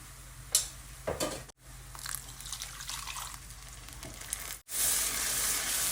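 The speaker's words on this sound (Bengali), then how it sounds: "মশলাটা এখন আমি ভালো করে কষিয়ে নেবো" A spice paste with turmeric, chili, coriander and cumin powders sizzles in a hot pan while being stirred, with scraping strokes over a constant close fry that swells to a loud hiss near the end.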